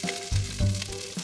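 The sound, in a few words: onions sizzling in oil for stew base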